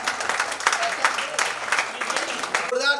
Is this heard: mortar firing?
no